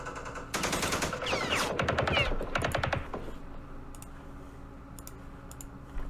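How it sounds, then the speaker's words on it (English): Machine gun fire in the wargame Campaign Series Vietnam, Battle of Hue: a rapid clattering burst of automatic shots lasting a couple of seconds, then a quieter background with faint distant crackles. "Oh, machine gun."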